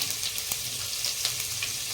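Green chillies dropped into hot oil already tempered with cumin and asafoetida, giving a soft, steady crackling sizzle with faint pops, fairly quiet and close, no voices.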